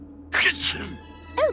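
A cartoon character lets out a sharp sneeze and then a shorter second one, mixed in with spoken lines.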